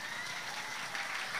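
An audience at an Islamic religious talk claps together in a steady, fairly faint wash of applause with no pauses.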